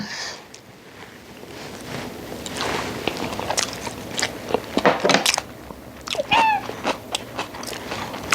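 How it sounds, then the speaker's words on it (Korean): The last spoonful of butter abalone rice cooked in an iron cauldron pot being eaten: close, wet chewing with several crunchy bites, growing louder midway, with no talk. "마지막 숟가락을 먹어보겠습니다."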